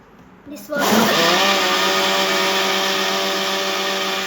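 A kitchen blender whirs up a carrot milkshake, starting abruptly after a brief quiet moment and then holding a loud, steady motor drone with a faint high whine for the rest of the clip.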